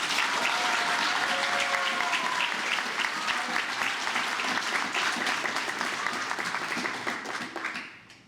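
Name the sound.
applause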